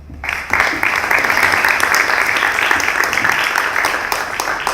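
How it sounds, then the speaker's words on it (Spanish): An audience at a book presentation in a university law faculty applauds a guest speaker, a steady wash of clapping from many hands that starts abruptly and holds at an even level throughout. "para el que pido un aplauso"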